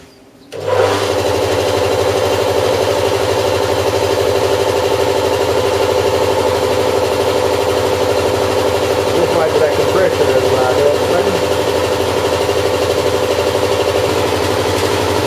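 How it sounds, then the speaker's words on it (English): An air compressor in a garage starts up after a brief quiet moment, then runs steadily with a loud, even mechanical drone and motor hum, close by and unchanging throughout. "I think I better turn the compressor back on."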